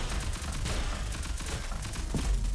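Dense, continuous gunfire from a Hi-Rez Studios shooter video game, a steady fusillade of rapid shots with a louder burst near the end and no speech.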